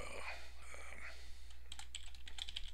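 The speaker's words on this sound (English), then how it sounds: "So they would type in their name, when they sit down." Light tapping on a tablet keyboard as a name is typed, a quick run of soft key clicks coming after a stretch of low background murmur.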